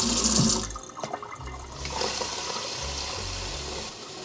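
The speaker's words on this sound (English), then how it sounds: "you guys want to add the water up to this line right here" Cold water pours into the tank of a Bissell Little Green cleaner, a steady nearby splashing gush that starts with a louder burst and then settles into an even, continuous trickle-like rush.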